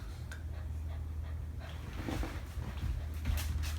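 A dog pants close up, a steady rapid breathing rhythm over a low hum with no talk.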